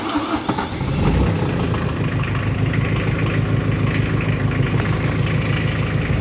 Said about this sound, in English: So I'll start it up when we get back to it.